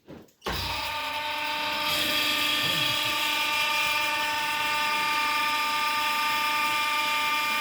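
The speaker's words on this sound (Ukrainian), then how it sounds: "запускаємо прес і важливо запускаємо платформу" An 18-ton Sylach press for recyclables starts up after a short knock, then settles into a steady, loud mechanical whine with a strong tonal hum that holds without break, with no talk.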